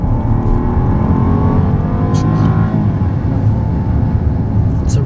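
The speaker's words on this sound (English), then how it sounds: "We've got that big twin turbo 12-cylinder engine. So if we put our foot into it," A 2023 Rolls-Royce Phantom's twin-turbo 12-cylinder engine builds steadily under acceleration, a smooth, continuous low roar that rises gradually with a rising whine, heard from inside the car with a faint voice in the background.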